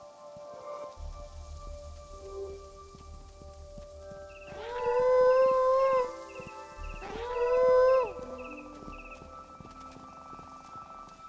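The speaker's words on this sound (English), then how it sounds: "I was howling at that little crystal thing that I saw." Player character's howls in the video game Fe ring out as two long, tonal, whale-like calls over a soft ambient musical bed with light rain-like texture, loud and clear.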